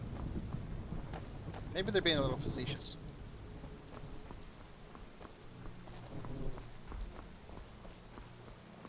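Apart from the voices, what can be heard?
thunderstorm and rain from the video game Skyrim SE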